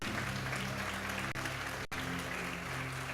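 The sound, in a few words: audience applauding in church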